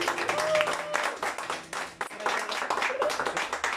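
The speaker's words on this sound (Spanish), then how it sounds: "El aplauso bonito que se escucha." Audience applause at a birthday party with a mariachi band, dense clapping that rises and falls for a few seconds while voices mingle in the background.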